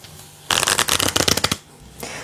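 A deck of tarot cards is shuffled in one quick burst of rapid riffling flutters lasting about a second, close and crisp, followed by a brief soft card tap.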